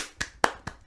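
Three sharp hand claps from an audience member come in quick succession, the middle one loudest, alone with no talk.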